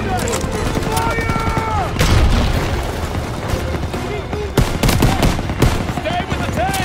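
Battle audio from Call of Duty WW2 during Operation Cobra, with an MG-42 machine gun nest firing in loud, dense rattling bursts alongside booms and explosions, while shouted soldier voices sound over the combat.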